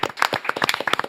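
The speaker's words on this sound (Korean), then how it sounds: "따뜻한 박수로 맞이합니다." A studio audience on a Korean talk show claps to welcome an active-duty army major as a guest, a short burst of close, irregular handclaps that fills the moment with no talking.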